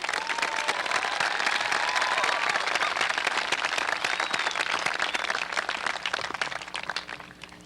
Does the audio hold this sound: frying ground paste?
no